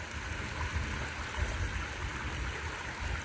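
Mountain water piped into an outdoor fountain in Italy rushes in a steady, dense wash of flowing and splashing, close and continuous with no voices.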